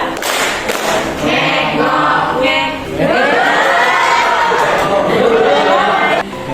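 A workshop group of teachers in Sragen claps in counted patterns during a call-and-response clapping game, close and loud, with bursts of shouting and a voice calling out between the claps.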